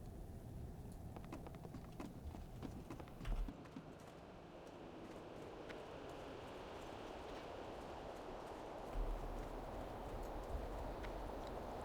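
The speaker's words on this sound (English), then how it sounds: "Take Ducal's horse" Faint, soft hoof thuds from a horse in World of Warcraft Classic under a dense, hissing backdrop, with a couple of louder bumps along the way.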